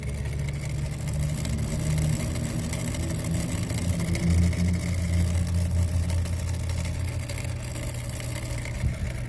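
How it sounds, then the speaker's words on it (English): A faulty defrost timer clock in a walk-in freezer grinds continuously, a loud, steady mechanical drone with a low rumbling hum and no break, with no voices over it. "I can hear that defrost clock just grinding away"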